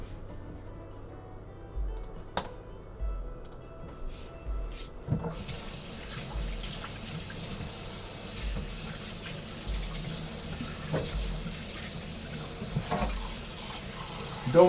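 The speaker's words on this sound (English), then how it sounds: "Don't mind me just washing off the mittens" Water runs from a kitchen tap while oven mitts are rinsed, a steady gushing flow that swells partway through, with scattered clunks and handling noises.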